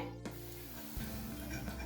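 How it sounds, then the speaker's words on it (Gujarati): Green pigeon pea dhekra balls fry in hot oil over a medium flame, giving a steady, close sizzle with a brief stir or clink of a utensil against the pan near the start. "હવે આપણે એને તળી લઈએ."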